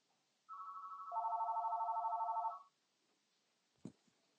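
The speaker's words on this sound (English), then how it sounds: "Of course the phone rings, you know." A telephone rings in a single electronic warbling burst lasting about two seconds, moderately loud in a quiet room, followed by a brief click as it is picked up.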